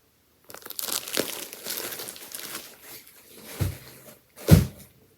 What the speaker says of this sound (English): Now let me open up these packages of stuff.